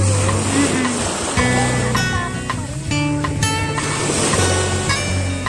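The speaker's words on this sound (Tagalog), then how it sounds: "Malakas ang alon ngayon, oh. Ang lakas ng alon." Heavy surf roaring and crashing steadily close by at a beach in Limassol, Cyprus, with a boat motor humming low underneath and faint voices in the background.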